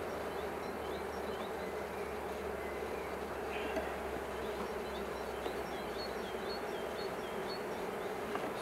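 A dense, continuous hum of many honeybees buzzing together at the hive, steady and close, with no talking.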